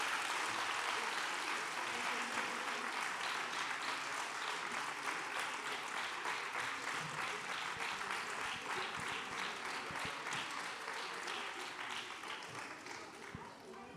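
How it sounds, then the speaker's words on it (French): Audience applause at the end of a panel discussion on the world after the American elections, a sustained, fairly faint wash of clapping that slowly tapers off, with some voices mixed in. "Merci pour vos applaudissements"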